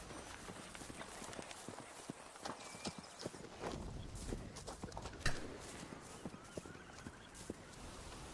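Clip-clop of hooves from a robot horse in a video effect, a steady run of moderately loud hoof strikes with a few sharper knocks over a busy background.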